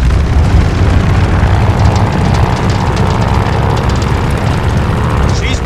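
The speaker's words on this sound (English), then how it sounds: "All right, do an engine run-up." A propeller aircraft engine run-up in the Call of Duty Vanguard video game, a loud steady roar with heavy low rumble held throughout, no talk over it.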